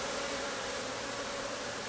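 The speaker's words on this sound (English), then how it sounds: "You can see these bees swarming around my head." Honeybees buzzing densely around a beekeeper's head near an agitated hive, a steady close hum with no pauses.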